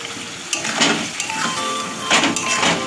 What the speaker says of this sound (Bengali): মশলা আমার কষানো হয়ে গেছে, এবার আলুগুলো আমি দিয়ে দেবো।